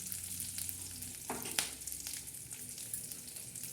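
Green chillies fry in hot oil with a quiet, continuous crackling sizzle, broken by a brief clatter of stirring midway, close by and with no voices.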